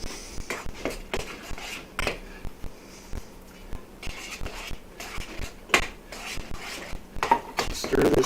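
Shredded Colby cheese, tossed with flour, being stirred into macaroni in a pot for mac and cheese: repeated clinks and scrapes of a utensil against the pot in an uneven rhythm, close and moderately loud, with no talking.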